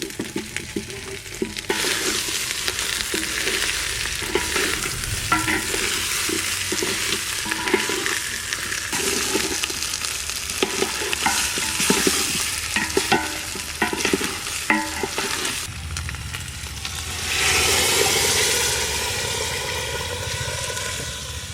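Potatoes added to a handi of young goat mutton curry, stirred and fried with a strong continuous sizzle and rhythmic scraping of the spoon against the pot, swelling louder near the end.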